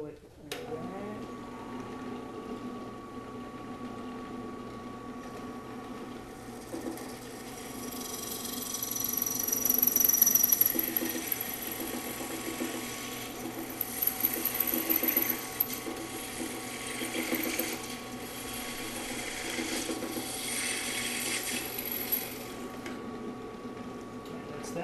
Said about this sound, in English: I'm going to drill them all together at the same size